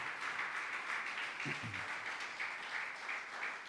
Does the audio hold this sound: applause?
yes